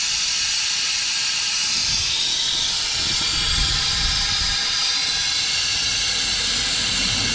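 Air-driven vacuum tool pulling on the cooling system of a 1999 Toyota Camry during a timing belt job: a loud, steady rushing hiss that holds constant throughout with no break, close to the listener.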